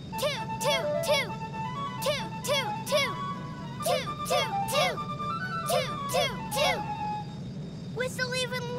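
Children's voices imitate a train whistle in a Little Einsteins cartoon, singing a repeated sing-song toot toot in bright, evenly spaced bursts over a low rumbling background, with a final higher call at the end.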